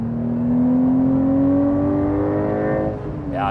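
Porsche 911 Sport Classic with 550 hp and a manual gearbox accelerating hard in second gear, the engine note climbing steadily from a low growl to a higher pitch and staying loud and close throughout, with no voices.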